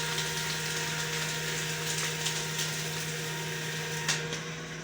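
An Oastar paper shredder cross-cuts a stack of 12 sheets, giving a steady motor hum and grinding whir with faint crinkling crunches, running continuously and close.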